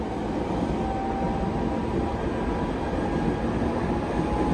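Steady low rumble of a Toyo Rapid Railway local train bound for Mitaka, heard from inside the car while running, with a continuous rolling drone and no voices.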